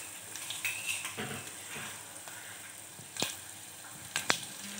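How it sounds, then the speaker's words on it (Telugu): Mustard seeds, urad dal, cumin and asafoetida tempering frying in hot oil for a Telugu dal dish, a steady soft sizzle with scattered faint pops and a few sharper crackles near the end, with no talking. "ఇప్పుడు మనకి పోపు అంతా ఫ్రై అయిపోయింది"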